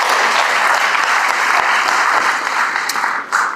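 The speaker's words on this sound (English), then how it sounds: "let's give a big round of applause to all these student leaders who volunteer their time" An audience applauds student leaders at a tech talk event, with steady, dense clapping from a sizeable crowd that holds evenly for several seconds before tapering slightly at the end.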